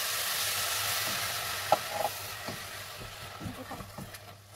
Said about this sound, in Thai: แล้วก็ผัดทุกอย่างให้เข้ากันดีสักพักนึง